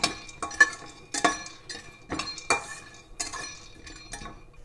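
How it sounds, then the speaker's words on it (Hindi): Peanuts roasting in a dry, hot kadhai, rattling and clinking against the metal as a spatula tosses them in several sharp, close bursts. "सूखे कढ़ाई में ही हम थोड़ा मूंगफली को रोस्टेड कर लेंगे"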